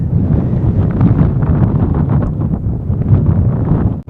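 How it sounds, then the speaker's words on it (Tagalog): Strong mountain wind near the Matterhorn in Zermatt, Switzerland, buffets the microphone in a continuous low roar, gusting unevenly throughout with no voices. "Lakas ng hangin."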